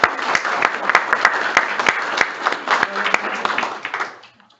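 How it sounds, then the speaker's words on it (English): A round of applause rises from the audience at a state commission meeting in South Carolina, a steady patter of many hands clapping with some sharp individual claps, fading out at the end. "that's worth a round of applause"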